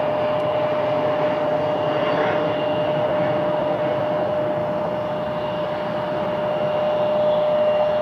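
A fixed-wing airliner approaches to land at Cleveland Hopkins airport, its engine roar steady and fairly loud throughout, with a constant tonal whine over a broad rumble.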